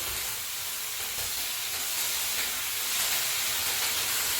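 Slices of banana bread fry with sugar in a pan on a medium flame, giving off a continuous, fairly loud sizzle and hiss with no talking.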